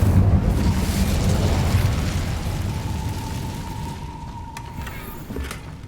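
Casting the Incendio fire spell in Hogwarts Legacy gives a loud, broad whooshing roar that slowly fades. A faint steady tone runs beneath the tail, and a short crackle comes near the end.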